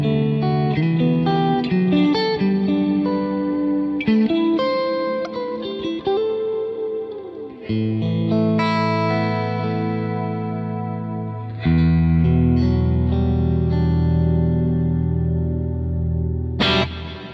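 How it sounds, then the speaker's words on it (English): Electric guitar run through a shimmer-style reverb on an Axe-FX system, sustained chords with bright octave-up washes and long ringing tails, played alone. "now this is switching in a shimmer style reverb on the AXFX system"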